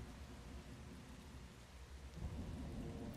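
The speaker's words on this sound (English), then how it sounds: "Just nice to relax in the rain, right?" Steady rain and rolling thunder in the video game Once Human, a dense close downpour with a heavier rumble swelling in the last second, with no voices.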